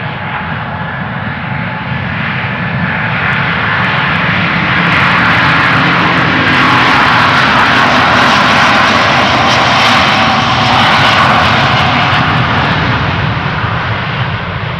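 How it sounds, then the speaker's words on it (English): An Airbus A330neo departs Amsterdam Schiphol's Polderbaan runway, its loud, broad engine roar building and holding strong for the whole stretch, with no voices over it. "A330neo outbound to Salt Lake City."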